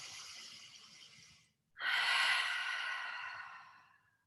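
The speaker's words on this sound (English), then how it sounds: "Just take 3 deep breaths here." Two deep breaths during a relaxation breathing exercise: a softer exhale fades out, a brief pause follows, then a stronger, louder breath swells and slowly tapers off, close to the mic.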